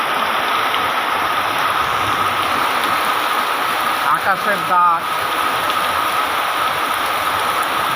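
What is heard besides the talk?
heavy rain pouring down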